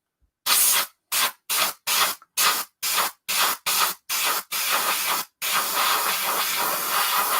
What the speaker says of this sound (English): Place in front of the airbrush and wiggle the airbrush backwards and forwards.